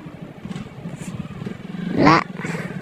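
A motorcycle passes close by at a busy Sinulog street festival in Cebu City, its engine swelling to a short loud burst over steady crowd and traffic noise.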